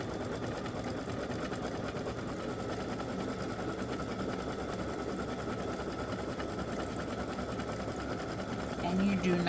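An embroidery sewing machine top-stitches a patch, a fast continuous needle chatter with a busy mechanical rhythm, close and steady, with someone talking over it.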